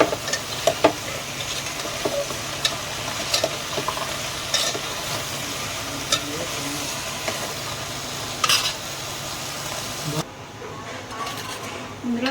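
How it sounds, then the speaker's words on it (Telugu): Onions, ginger and garlic fry with salt in a pan for sambar, making a continuous sizzling hiss. Periodic stirring scrapes cut through, with faint voices in the background. The sound drops abruptly near the end. "వేసుకొని ఒక 5 నిమిషాల పాటు బాగా ఫ్రై చేసుకోవాలి"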